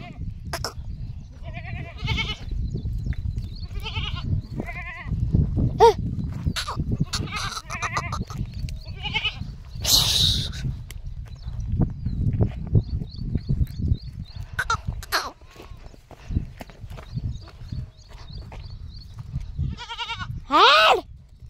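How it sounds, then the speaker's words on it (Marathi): Goats bleat repeatedly, near and loud, in sharp wavering calls scattered across the scene, sometimes overlapping. A voice calls out to the herd between the bleats. "चला रे शेळ्यांनो चला. लगेच तर ओरडत हे."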